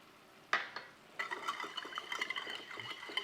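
A whisk clinks and scrapes in a bowl of French toast egg mixture, quick light taps and stirring strokes starting after a sharp knock, close and clear with no talking.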